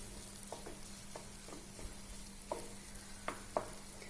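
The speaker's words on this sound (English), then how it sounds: "So we will give it a stir and cover and cook further." A spoon stirs mango semolina pudding (sheera) in a pan, giving soft scraping strokes at a steady, unhurried rhythm against a faint low hum, with a few sharper scrapes near the end and no talking.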